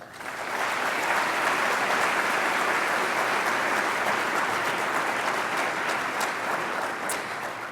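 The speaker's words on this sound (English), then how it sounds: "Please give him a round of applause." An audience applauds steadily and loudly for several seconds to welcome Adobe CEO Shantanu Narayen at a guest lecture, dense even clapping from a large crowd with no talking.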